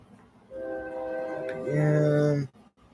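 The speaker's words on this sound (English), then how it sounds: "If you guys hear a train," A train horn sounding near a home, a sustained multi-tone blast that rises in loudness and holds for about two seconds before cutting off, fairly close and alone.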